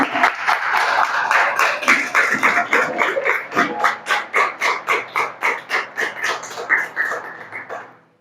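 A church congregation claps in unison with a steady rhythmic beat that gradually fades out at the end.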